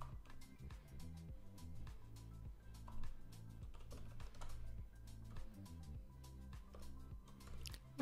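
Rapid typing on a computer keyboard, a quiet, close stream of light key clicks in uneven bursts, with no voice over it.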